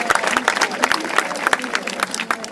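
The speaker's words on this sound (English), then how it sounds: "Can we give them a round of applause as well?" Audience applause at a high school graduation ceremony, a steady patter of many hands clapping from the crowd, moderately loud and continuous with crisp individual claps standing out.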